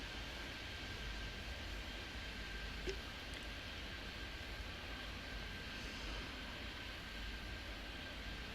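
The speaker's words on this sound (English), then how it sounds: "Because there's planes landing, Eric." Airplanes landing in the game Airport Madness 3D, a faint, constant engine drone with a thin steady whine running alone throughout, no voices.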